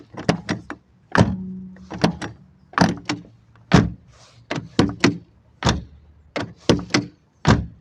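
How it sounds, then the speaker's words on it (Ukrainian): ZAZ Slavuta car doors closed one after another, a series of firm, dull thuds and latch clicks at close range, roughly a dozen over several seconds, with no talking. "Тепер дивіться всі двері."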